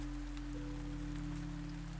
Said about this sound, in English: Outside, the rain continues to fall, not the kind that rushes past quickly, but the slow, steady rain that settles into the night.